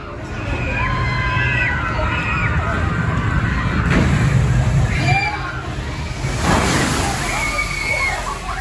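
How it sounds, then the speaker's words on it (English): Riders on a Thorpe Park water ride get drenched, with continuous loud sloshing and rushing water throughout and a bigger surge of splashing near the end, while a group shouts and talks over it. "preparing to get absolutely drenched on the draw"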